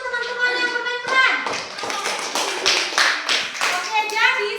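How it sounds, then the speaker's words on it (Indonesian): Classroom of children clapping for classmates after a role-play during a microteaching lesson. Lively, uneven clapping and taps fill the room close by, with children's voices talking and calling over it. "Tepuk tangan dulu untuk teman-teman yang bermain peran."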